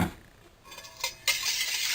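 A spoon scrapes and clinks against a bowl while vanilla is stirred into a bulk bread pudding mixture with blueberries and pecans, soft close mixing sounds with a couple of sharper taps.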